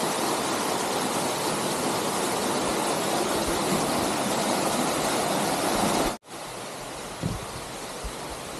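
A waterfall on Chiaksan, either Suryeom or Chilseong falls, roars as a steady, dense wash of close rushing water. The roar drops out for a split second before resuming slightly softer.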